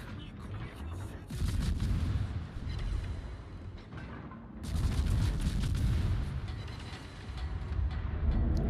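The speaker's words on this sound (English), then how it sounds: "Here comes the Yamato salvo" The Yamato battleship in World of Warships fires its main guns, heavy low booms rolling out in two big bursts with rumbling tails, sounding moderately distant in the game's mix without any voices.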